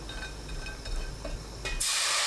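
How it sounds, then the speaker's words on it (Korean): Dried soup anchovies stir-fry in a pot over high heat, giving a soft steady sizzle and hiss that swells into a loud broadband spray of frying in the final half second. "냄비에 손질한 국물용 멸치 10g 넣고 센 불로 1분 볶습니다"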